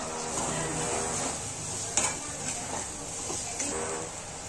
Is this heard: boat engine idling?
no